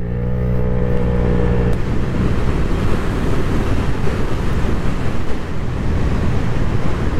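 A Vespa GTS 300 scooter fitted with a J.Costa variator accelerates toward 100, its engine note rising briefly at the start before strong wind rush drowns it in a loud, steady roar.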